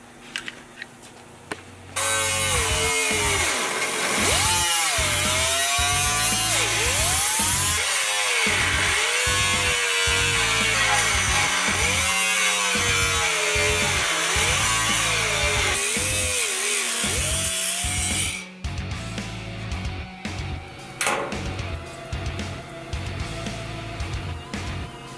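A power tool cuts rusted car body metal out of a fender: a loud, steady high-pitched whine with rhythmic pitch dips as it bites in, running about sixteen seconds before stopping into quieter clatter.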